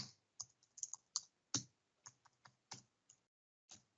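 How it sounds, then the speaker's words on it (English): Irregular keystrokes on a computer keyboard as a username and password are entered, about a dozen quiet clicks in small bursts with brief pauses, no talking. "I type in my username. I hope I type in my password correct."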